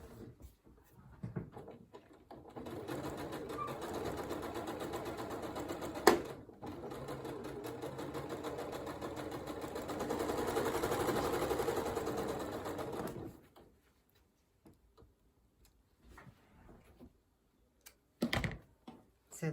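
Sewing machine stitching a scrap piece onto an improv log cabin quilt block, running in a steady close whir for about ten seconds and then stopping, followed by a few faint handling clicks.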